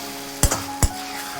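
Pumpkin halwa cooking in ghee in a pan is stirred, two distinct scraping strokes of a spoon against the pan over a soft, continuous sizzle, close up.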